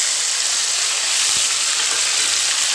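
Onions, tomatoes and green chillies fry in hot oil with cumin, producing a loud, steady, close sizzle throughout. A few faint stirring knocks come through under the constant hiss.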